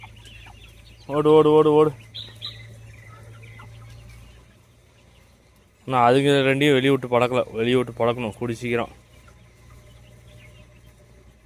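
Guinea fowl clucking and calling in short bursts, mixed with a person talking nearby; a long quiet stretch separates the two busy moments.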